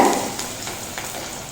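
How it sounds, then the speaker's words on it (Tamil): Chana dal sizzles as it fries in hot oil in a pan, a close, loud crackling hiss with a few scraping stirs over a short stretch. "கடலைப்பருப்பு நல்லா முருகலாக வர வரைக்கும் வறுத்துக்கலாங்க."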